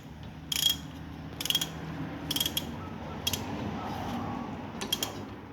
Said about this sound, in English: We have to use the spanner and holding this nut, otherwise can't tight.